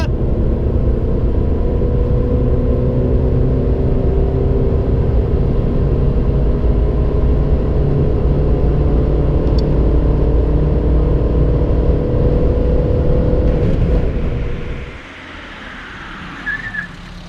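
A Citroen C2 VTR engine roars under sustained full throttle in fourth gear at 90 km/h with a steady rising drone, then cuts off abruptly near the end, leaving a quiet cabin.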